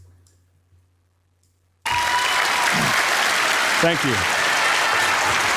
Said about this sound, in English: All right, people start clapping.